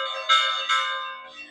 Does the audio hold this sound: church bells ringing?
yes